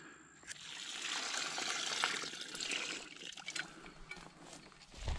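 Water is poured into a container at an outdoor survival campsite, a continuous close splashing trickle with gurgling that lasts several seconds, with no talk.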